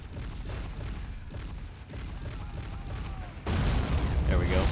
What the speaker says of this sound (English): That thing's just firing like at anything that moves.